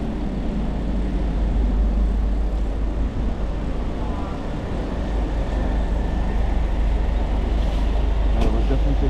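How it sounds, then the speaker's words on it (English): Buses among Paris street traffic near a large station, a continuous low engine rumble and road noise with passing vehicles, moderately loud, with faint voices in the background. "Buses."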